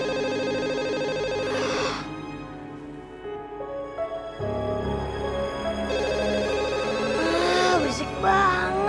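A telephone rings late at night, a harmonic electronic ringtone repeating in steady bursts with brief pauses, fairly close and loud, overlaid with other tonal sounds.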